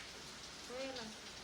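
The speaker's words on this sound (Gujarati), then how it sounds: "ભયાનક વરસાદ આવે છે, જબરદસ્ત વરસાદ આવે છે" Heavy rain pours as a faint, steady wash of noise, with a brief tonal sound rising out of it midway.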